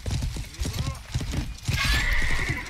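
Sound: horse galloping and neighing in the video game Life is Feudal

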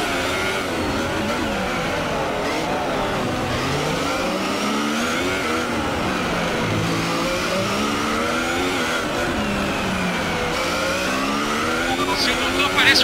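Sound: car engine revving in F1 2018 video game

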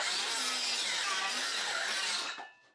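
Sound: saw cutting quietly at a construction site

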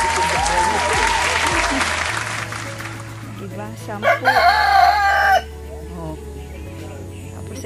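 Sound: chicken

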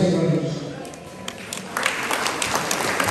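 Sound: applause for the best man at a Kichwa wedding

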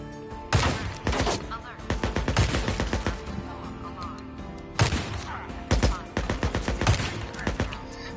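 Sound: gunfire from the video game Days Gone

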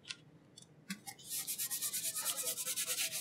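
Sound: burnishing stencil onto pint glass for etching

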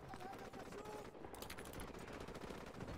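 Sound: gunfire from Call of Duty Modern Warfare Remastered video game

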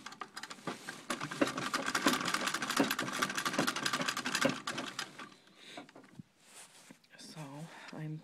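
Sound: sewing machine sewing quilt fabric

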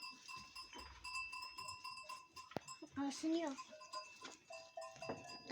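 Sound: sheep bleating

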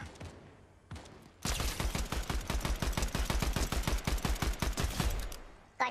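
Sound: gunfire in the video game Fortnite

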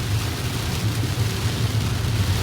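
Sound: rain falling outside while driving a car

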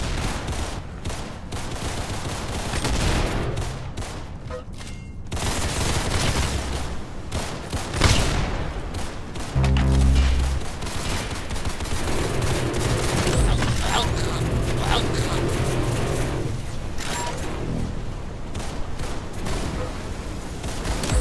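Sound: gunfire in the Roblox Arsenal video game

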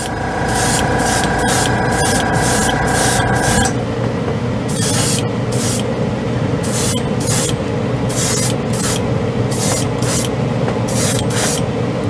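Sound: airbrush spraying Mr. Hobby Aqueous Gundam paint

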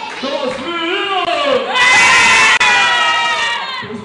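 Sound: children cheering for the boys in a balloon game

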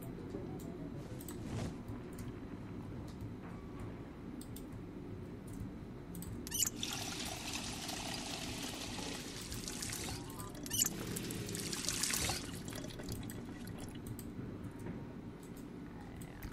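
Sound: water being poured into bottles, from the video game Project Zomboid

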